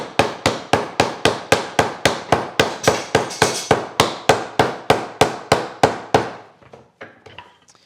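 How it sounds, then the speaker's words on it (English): A rapid, steady series of about twenty sharp hammer or mallet blows on a wooden dovetail joint, loud and close, ending with a few lighter taps. "start pounding on it with a hammer or mallet"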